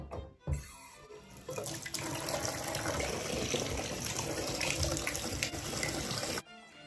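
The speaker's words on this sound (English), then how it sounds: "Soaking in a clawfoot tub in the castle." Water runs steadily from a tap into a clawfoot bathtub in a castle hotel in Ireland, a loud continuous gush that starts with a brief splash and stops abruptly near the end.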